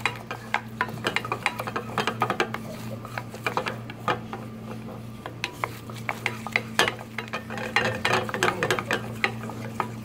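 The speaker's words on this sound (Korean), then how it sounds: "끊임없이 저어줘서 타지 않게." A roux being stirred continuously in a pan to keep it from burning, with a steady scraping and sizzling texture and a constant low hum beneath it.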